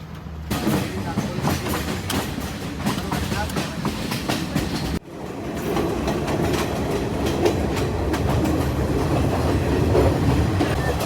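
A train in Sri Lanka rolls along with a steady rumble and rhythmic clatter of wheels, interrupted by a brief cut before the noise resumes, loud and close.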